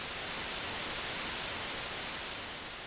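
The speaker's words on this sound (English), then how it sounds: "That white noise is quite loud." Loud, steady white-noise static hisses without a break in the video game Metal Gear Solid 2, filling the whole stretch evenly with no voices.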